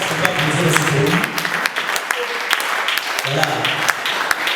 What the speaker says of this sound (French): on va applaudir aussi pour lui